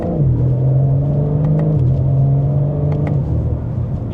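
A 2026 BMW M4 Competition xDrive accelerating, its engine giving a loud, close, steady rumbling drone that climbs in pitch, drops briefly at a gear change, then pulls on again.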